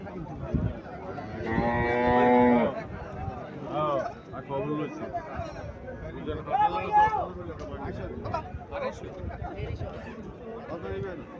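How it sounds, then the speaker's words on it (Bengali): A cow gives a long, loud moo early on, amid busy outdoor chatter from several people talking nearby at a cattle sale. "এখানে আর একটা গাভি দেখা যাচ্ছে ও দামড়ি বাছুর"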